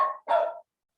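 A dog gives two quick, sharp barks indoors, the second longer and louder, close to the microphone, followed by silence.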